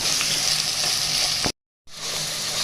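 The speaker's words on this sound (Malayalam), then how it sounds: "ഉള്ളി നന്നായിട്ട് വഴന്ന് വരാൻ തുടങ്ങി" Onions and curry leaves sauté in a pan for a sambar, crackling in a dense, continuous sizzle up close, briefly cut off by a short silence before the frying noise resumes.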